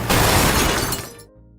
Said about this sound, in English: she accidentally crashed into Quagmire's car